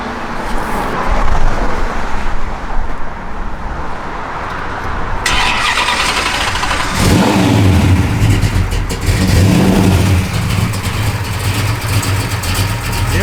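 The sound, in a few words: 1966 Plymouth Satellite Hemi engine rumbling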